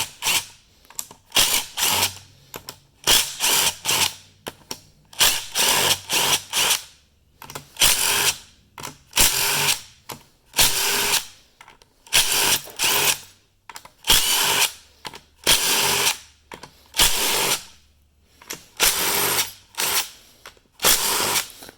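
Power tool driving a 10 mm socket while disassembling a transmission valve body, sounding in about a dozen loud, close bursts of whirring and ratcheting with brief pauses between them.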